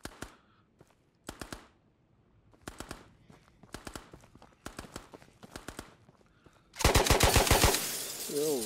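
Bursts of automatic gunfire in the video game Ghosts of Tabor, several short rapid volleys spaced by pauses, with a longer and louder close burst near the end.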